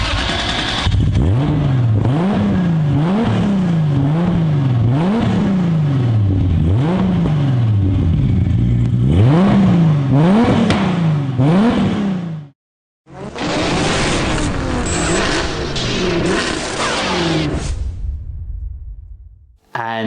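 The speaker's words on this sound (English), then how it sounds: "a little clip from Full Throttle of it just pulling out of the garage now" A turbocharged 2JZ engine in a Toyota MKIV Supra pulls out of a garage, revving loudly in repeated rising and falling surges with a whooshing turbo character, then cuts briefly before another burst of revving that fades out.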